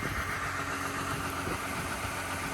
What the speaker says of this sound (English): But she is running and she sounds reasonably quiet.